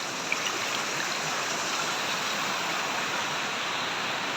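Steady broadband rush of water flowing at Kunnanthodu dam near the Tamil Nadu–Kerala border, continuous and fairly loud with no voices.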